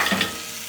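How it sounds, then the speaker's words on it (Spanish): A brief scrape of a spoon stirring a tomato-broth stew in a pan, with a soft sizzle underneath, close and short. "Vamos a revolver."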